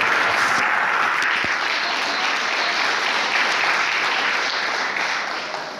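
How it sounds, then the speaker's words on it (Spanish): A church congregation applauds steadily during a Sunday school service, a dense, sustained clapping throughout that slowly thins near the end, with no talking over it. "¿Cuánto le dan un fuerte aplauso al Señor?"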